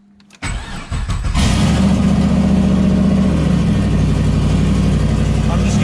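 An LS engine fitted with an MSD two-step limiter set to 2500 cranks and catches, then holds a loud, steady, throbbing rev. A brief starter churn comes before the sustained roar.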